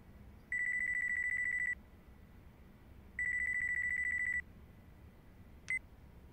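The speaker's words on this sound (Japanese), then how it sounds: "俺の電話だ。" A mobile phone rings in the video game Yakuza 5 Remastered, giving two steady electronic tone bursts with a pause between them and then a short beep, all over a quiet background.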